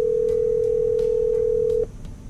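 A steady phone dial tone hums for about two seconds over a Toyota 4Runner TRD Pro's Bluetooth, then cuts off, leaving quiet background noise.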